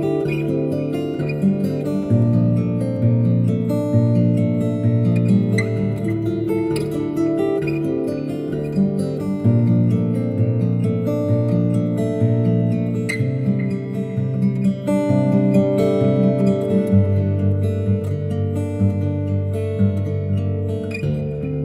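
An acoustic guitar in DADGAD tuning plays ringing major and minor triad shapes, a steady, close, resonant progression of strummed and picked chords with no talking.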